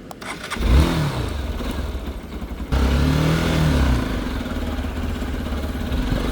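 A new Xpulse 4V Pro motorcycle engine runs close by, revving up twice in smooth rising sweeps over a steady idle, loud and alone without talk.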